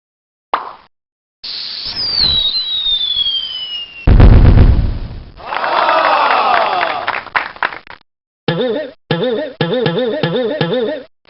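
Cartoon fireworks in the Mighty Math Number Heroes fraction game whistle up and burst in several loud, bright bangs, followed by crackling sparkles and a quick run of chiming plops.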